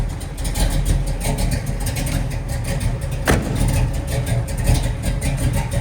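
A 1969 Chevrolet Camaro RS SS396 restomod running, its deep engine rumbling steadily with a thumping low idle and a slight swell partway through, close by with no talk.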